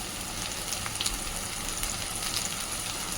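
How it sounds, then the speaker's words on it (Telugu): Tomato and onion frying for a mutton liver curry give a soft, steady sizzle, fairly quiet and continuous, with faint crackles scattered through it and no voices. "ఇదిగోండి టమాటా, ఉల్లిపాయ వేగాయి కదా"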